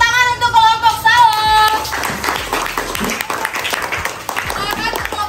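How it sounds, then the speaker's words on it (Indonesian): Classmates in a sixth-grade science lesson at an Indonesian Islamic primary school clap for a presenting group, a loud, close burst of mixed handclaps following a short musical tone, with voices talking over it. "tepuk tangan untuk kelompok Sao"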